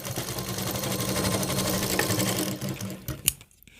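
A sewing machine stitching a straight seam on a suit, a steady close mechanical whirr that runs without a break for about three seconds, then stutters through a few short bursts and stops.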